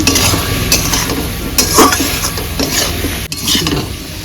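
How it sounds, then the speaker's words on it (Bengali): Spices and chilli sauté in a pan, scraped and stirred with a spoon in quick rhythmic strokes over a loud, close sizzle, with occasional metallic clinks against the pan. "ধন্যা চামচ লঙ্কাও দিলাম ভালো করে কষিয়ে নিচ্ছি"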